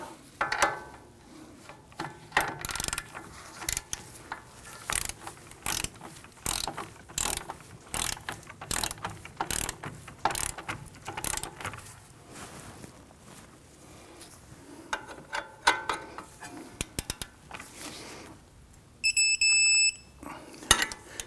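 A wrench torques the front strut bolts on a 2001-2009 Volvo S60 to 77 foot-pounds, with repeated close ratcheting clicks in short bursts and pauses between strokes and a brief beep near the end.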